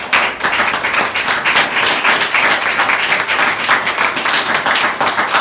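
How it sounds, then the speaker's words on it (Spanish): A church congregation applauds steadily and loudly for the whole stretch, a dense, continuous wash of many hands clapping with no pauses. "Dale un aplauso a Jesucristo."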